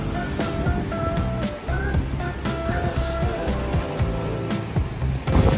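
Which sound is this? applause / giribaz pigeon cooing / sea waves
sea waves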